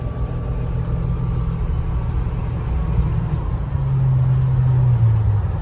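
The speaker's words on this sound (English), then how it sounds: "Man, that motor sounds refined." A 1957 Chevrolet truck fitted with a 454 big block V8 idles steadily nearby with a smooth, continuous low rumble that swells slightly louder toward the end, with no talk.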